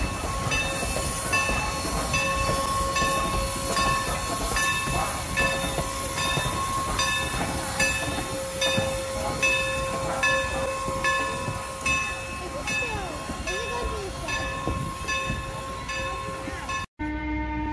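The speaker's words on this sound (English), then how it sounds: "Here comes the train." A steam train, locomotive 611 at Strasburg Railroad, rumbles past for a long stretch, with rhythmic clacking of wheels on rail joints and a sustained horn tone, loud and near.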